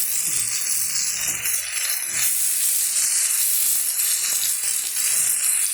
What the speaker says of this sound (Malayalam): ഓരോന്നും ഇങ്ങനെ നമുക്ക് തിരിച്ചിട്ട് കൊടുക്കാം നമ്മുടെ ഈ വഴുതന നമുക്ക് ഏകദേശം ആയിട്ടുണ്ട്